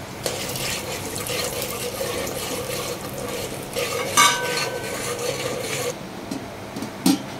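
Mustard seeds, urad dal and chana dal stirred in a pan, with a steady scraping and sizzling bed and a few louder metallic clinks of a spoon against the pan.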